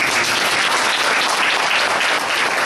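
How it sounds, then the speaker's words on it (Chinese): A church audience claps and applauds in a dense, continuous, even burst that holds at the same level from start to finish. "拍手鼓掌"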